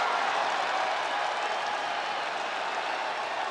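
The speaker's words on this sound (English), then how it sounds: "Listen to this ovation. The WWE Universe loves cheering on the EST" A dense, roaring wall of applause and cheering from a wrestling arena crowd in WWE 2K24 at a Royal Rumble match, an ovation that holds steady and full throughout without letting up.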